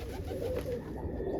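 An opal roller pigeon gives a soft, low, steady coo close by, with a few muffled background noises around it.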